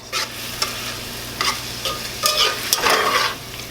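A spoon stirs tortilla, salsa, garlic and spices together in a hot pan, with soft scraping strokes and quiet sizzling in a few irregular bursts, close and alone.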